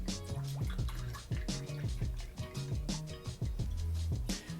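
Cognac poured into a glass for a Sazerac cocktail gives a close, steady gurgle and glug of liquid with rising pitch that runs without a break, and no one speaks.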